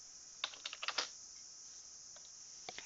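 Keys tap on a computer keyboard in a quick, quiet burst of about six strokes, followed by a pause and two more soft taps, close by with no talking.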